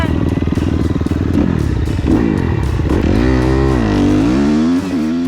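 A motocross dirt bike ridden hard on a new motocross track, its engine loud and close with rising and falling revs through gear changes, plus rattles and clatter from the bike.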